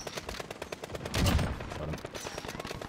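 Sniper gunfire in the video game Modern Warfare: a rapid run of sharp shot transients, with one louder, heavier blast near the middle, all in game audio without talk.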